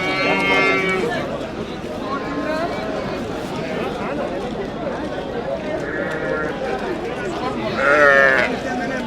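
Several animal calls ring out over a busy livestock market in Kattakurgan, including a large cow, with people talking throughout and a louder bellow near the end.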